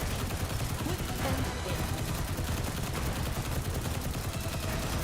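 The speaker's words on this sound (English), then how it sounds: "Just gonna go burr with the SMG" Rapid SMG fire in Destiny, a continuous fast rattle of shots at steady loudness that fills the full stretch without pause.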